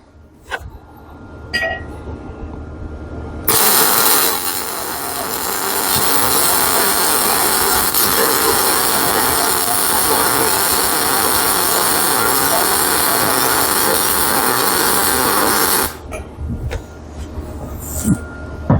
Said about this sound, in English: it's a good machine. It's welding nice.